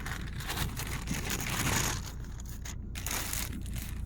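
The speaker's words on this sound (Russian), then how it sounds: "Положим в красный пакетик." A small red plastic bag crinkles and rustles nearby as food is packed into it, a continuous crumpling texture that eases briefly before picking up again.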